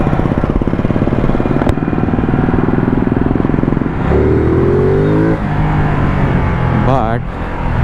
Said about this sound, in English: that kind of acceleration is not possible on any bike from that low in the rev range, because we are on a twin cylinder